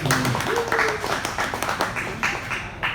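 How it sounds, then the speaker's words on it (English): A small audience claps in scattered, uneven bursts for a presenter about to talk about muscles, while a nearby voice talks over the start. "Yay, clap for me."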